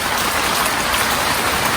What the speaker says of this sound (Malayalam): മഴ ഇവിടെ പെരും മഴ വരണ്ട് പറഞ്ഞപ്പോൾ